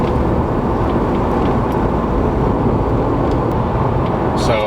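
A turbocharged Lexus IS300 with a CX Racing turbo kit pulls hard in third gear under wide-open throttle, a loud, steady engine and road roar heard from inside the car, with a brief whistle-like turbo chirp near the end.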